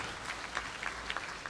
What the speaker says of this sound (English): So you can give him a great round of applause.